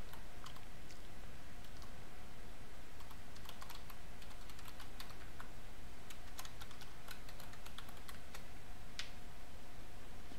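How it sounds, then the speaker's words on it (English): Steady typing on a computer keyboard while entering login credentials for a VMware vSphere web client, a continuous stream of light close clicks with occasional sharper keystrokes and no talk. "So I'm going to type my credential here."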